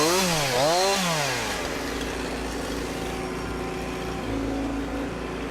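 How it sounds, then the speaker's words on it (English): A motor saw cutting trees for marshland habitat restoration, its engine revving up and down twice in quick loud swells before settling into a steady rough drone under the cut, nearby outdoors. "This habitat restoration work may involve tools more often seen as enemies of nature, such as excavators and motor saws."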